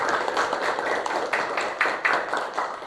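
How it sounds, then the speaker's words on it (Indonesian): Fifth-grade students in an Indonesian Quran and Hadith classroom clap their hands together in a steady rhythmic burst of sharp, close claps lasting a few seconds, with no talking over it. "iya, tepuk tangan."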